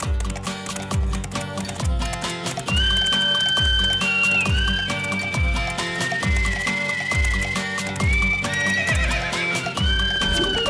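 A horse whinnies over rhythmic clip-clopping hooves, set against loud dramatic film music in a Hindi-dubbed South Indian action movie scene.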